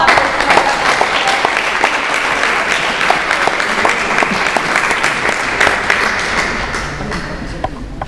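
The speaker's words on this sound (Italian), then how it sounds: "Un applauso a tutti." An audience at an accordion night concert applauding loudly and continuously, a thick dense clapping wash with crisp individual claps, sustained throughout.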